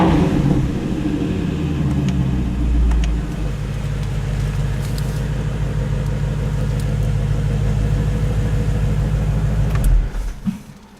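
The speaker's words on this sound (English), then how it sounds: "where you have the normal mode and the sport mode, and just the way that it sounds, full revs and so on." 2017 Ford Mustang GT350 with active exhaust in sport mode, a loud, close, steady engine rumble that swells with revving and then cuts out sharply near the end.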